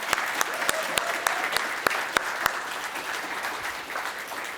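Church congregation applauding during a Sunday service, a steady wash of many hands clapping with a few sharper individual claps standing out, continuous and fairly full throughout.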